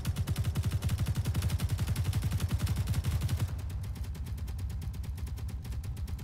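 Rapid automatic gunfire in the video game Space Engineers rattles in a dense, steady stream of loud shots, then shifts to a thinner, higher-pitched burst of fire for the last few seconds.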